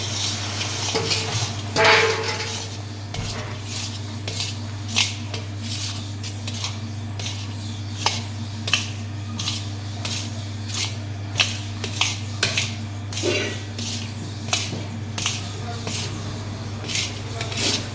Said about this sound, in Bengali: এরপরে এই যে নারকেল পাউডার এবং মিল্ক পাউডার যে মাখানো আছে সেটা আমি এবার দিয়ে নাড়তে থাকবো